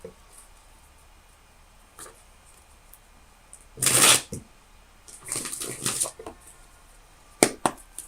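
Tarot cards are shuffled close by in several quick riffling bursts, crisp papery flutters separated by brief pauses and light taps, with no talk.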